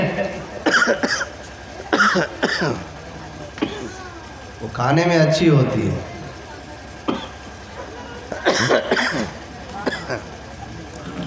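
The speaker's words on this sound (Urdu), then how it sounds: "دعا فرمائے کھانسی رک جائے" Someone speaks between several harsh coughs, including a longer coughing fit in the middle, close and fairly loud.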